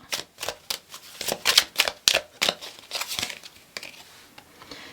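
Tarot cards shuffled by hand, a series of close, crisp riffling bursts in quick irregular rhythm, tapering off toward the end, with no talking.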